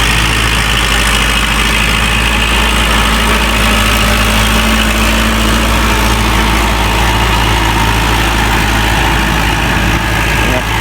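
A tractor engine labours under heavy load while ploughing new ground with a disc plough, a loud, continuous low rumble and drone with steady vibration close by, with no talking.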